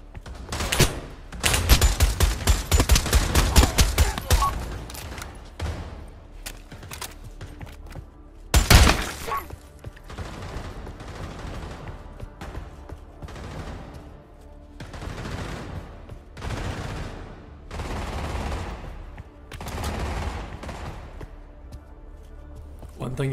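Gunfire in a VR shooter game: loud rapid bursts of shots early on, a sharp blast near the middle, then quieter intermittent shots and impacts, with someone talking throughout.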